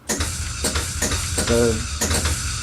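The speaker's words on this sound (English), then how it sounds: "you can hear all the solenoids going off like normal." Sharp mechanical clacks and thumps fire in quick bursts over a constant electronic hum, pinball cabinet solenoids snapping, with a brief tonal chime midway.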